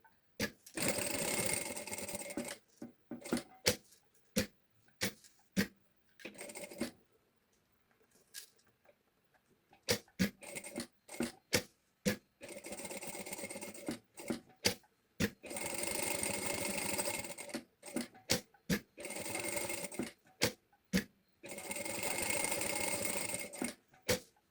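A sewing machine runs in repeated bursts while stitching a seam around a bag pocket, with short quick runs and longer steady stretches between pauses, close and clear with no talking.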